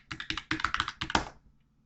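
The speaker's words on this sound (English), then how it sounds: "we can type our password" Quick bursts of computer keyboard typing as a password is entered, a rapid run of close, crisp key taps in several clusters that stops abruptly, with no talking.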